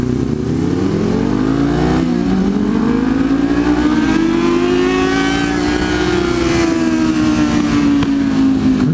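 A Kawasaki Z motorcycle revs loudly up and down close by, its exhaust note rising and falling over several seconds with crackling pops mixed into the roar, no voices.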